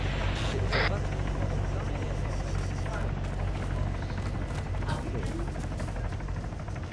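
A video game helicopter drones in a loud, steady rotor roar throughout, with a few sharp gunshot cracks near the start, the player talking over it.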